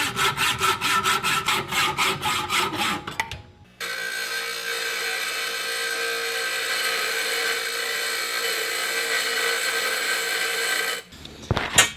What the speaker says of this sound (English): Now cutting the threaded rod right at 23 inches.